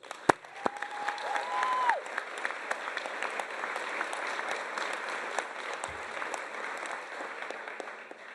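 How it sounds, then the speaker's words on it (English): An audience at a North Shore Community College event gives a round of applause, sustained mixed clapping with a few brief whistles near the start, filling the room steadily from start to finish. "I want to give a round of applause."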